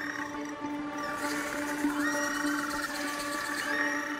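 Male little penguins in a colony on the Tasmanian coast call together, a steady overlapping chorus of wavering, braying cries, moderately loud and unbroken throughout.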